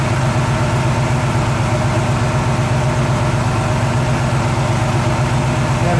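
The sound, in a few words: Chevy 350 engine idling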